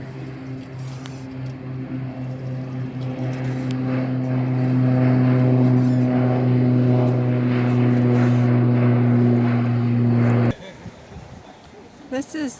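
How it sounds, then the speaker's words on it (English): A propeller floatplane takes off near the dock at Tofino on Vancouver Island, its engine droning loud and steady for about ten seconds before cutting away abruptly; wind buffets in the background. "It's a plane taking off."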